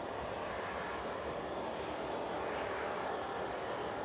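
An Ilyushin Il-76 departs East Midlands Airport, its engines a steady broad roar heard from a distance, filling the whole clip without talk.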